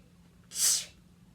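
A single sharp, energetic human sneeze bursts out close and loud against a quiet background, lasting under half a second.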